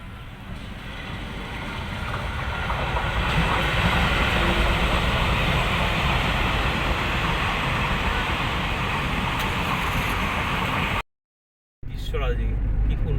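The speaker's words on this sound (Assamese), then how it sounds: "এখন পেচেঞ্জাৰ ট্ৰেইন।" A passenger train rolls past near a road on the way to the Nameri forest area, a loud, steady rumble that fills the clip before cutting out briefly near the end.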